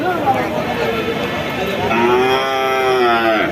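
Sahiwal bull calves at a cattle market low loudly in a sustained, rising moo that swells through the second half, over a busy, noisy crowd with people talking nearby.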